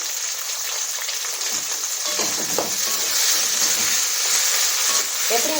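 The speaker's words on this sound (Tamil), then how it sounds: "அடுத்து தக்காளி பூண்டெல்லாம் வதங்கிருக்கு அது தக்காளி வதக்கிறேன்" Tomatoes and garlic sautéing in a pan for egg gravy, giving a steady, loud frying hiss that runs through the whole stretch, with faint stirring scrapes mixed in.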